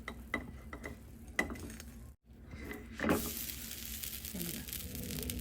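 A pancake sizzles in a pan after being flipped, a sudden rise in bright frying hiss that continues steadily for the last couple of seconds, preceded by clicks and light clatter from a spatula and the pan.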